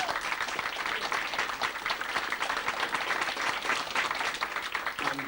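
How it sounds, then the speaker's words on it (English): A crowd in a Tramore bar gives a hearty round of applause for the musicians, dense continuous clapping at steady strength throughout, with faint voices mixed underneath. "will you give them a big round of applause?"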